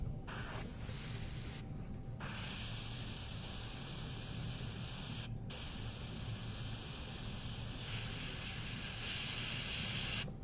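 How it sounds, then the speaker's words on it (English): A spray can hisses paint onto aeroplane panels in long continuous bursts, loud and close, broken by two brief pauses. "I spray these panels first. No need to be too careful. Just to spray it."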